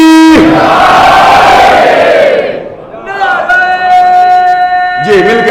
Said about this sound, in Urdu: نعرہ حیدری